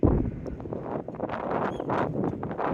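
Strong gusting wind on a beach by the coast buffets the microphone, a loud rumbling roar that rises and falls in waves across the whole stretch, with no voices.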